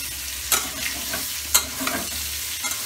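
Pointed gourd (potol) frying over medium heat in a pan for an egg curry, a constant close sizzle broken by a few sharp scraping stirs of a utensil, no voices.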